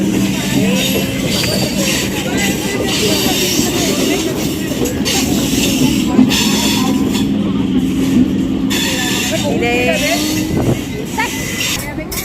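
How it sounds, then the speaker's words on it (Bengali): A train pulling into a busy station amid a steady, loud rumble of rolling stock and a noisy crowd; voices and chatter run over the train throughout. "ট্রেন ঢুকে গেছে"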